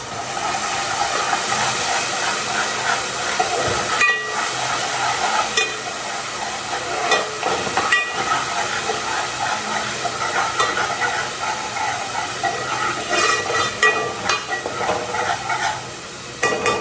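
A spice paste of garlic, ginger and chili hits hot oil in a home kitchen, giving a steady loud hiss and crackle of sizzling that runs without a break.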